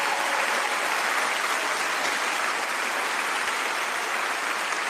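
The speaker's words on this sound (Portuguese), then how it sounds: "E a plateia aplaude." A crowd at a vigil for Charlie Kirk applauding, a dense, steady wash of clapping that holds evenly throughout with no pauses.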